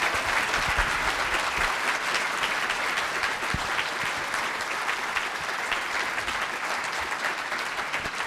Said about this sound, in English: thank you very much, and applause for Dr. Pearson.